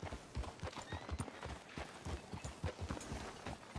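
Horse hooves clip-clopping in Red Dead Redemption 2, a steady walking rhythm of hard, close, distinct hoofbeats continuing throughout, with faint ambient background and no talk over them.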